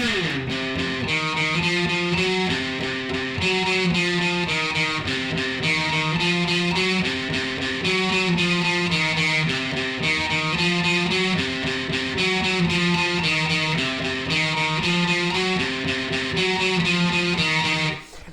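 A distorted electric guitar plays a slow, repeating riff, each note picked twice in an even rhythm, loud and alone.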